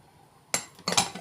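Starch, sugar and cocoa being whisked in a bowl for a chocolate sauce: two quick bursts of metal clinking and scraping against the dish after a quiet start, no talking.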